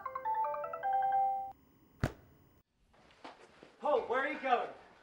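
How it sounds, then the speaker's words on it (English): A phone rings with a melodic electronic ringtone for about a second and a half. A sharp hit follows, then scattered noises and people talking. "Suddenly, his phone rings."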